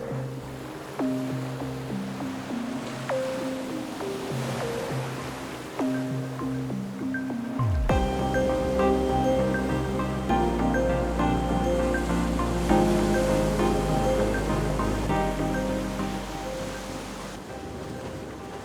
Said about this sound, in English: watching these waves crash into these cliffs is just astounding